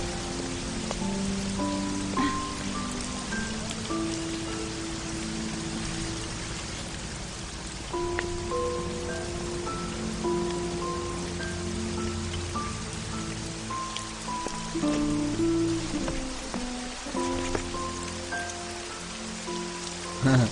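Rain falls steadily on surfaces, a continuous patter heard under a soft musical score with sustained tones for the whole stretch, and no voices.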